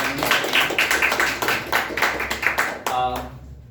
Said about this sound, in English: Well done, clap for Anya.